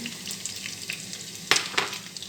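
Garlic, ginger and onion sauté in a pan for adobo chicken wings, a steady soft sizzle broken by two sharp metallic utensil scrapes midway and lighter stirring clicks after.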